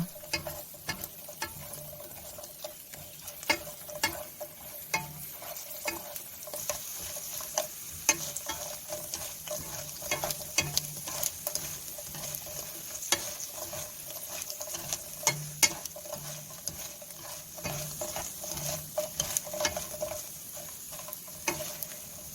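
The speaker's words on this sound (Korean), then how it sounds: "약불을 유지하며 적당량의 고추 부각을 넣어 재빠르게 뒤적여 주세요." Chili pepper bugak frying in oil over low heat, with a soft continuous sizzle and rapid irregular crackles and taps as the pieces are stirred quickly.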